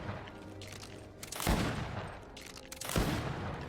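Firearm shots in the video game Greedfall: a faint, steady rattle of gunfire with two sharper blasts standing out about a second and a half apart, no voices.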